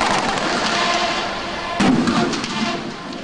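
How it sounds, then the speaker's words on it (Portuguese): Fireworks rockets fired by organized supporters who invaded a Remo football training session at the Almirante Barroso ground, heard as a sustained crackling roar with a louder burst about halfway through. "Invadiram o gramado e dispararam rojões na direção dos jogadores."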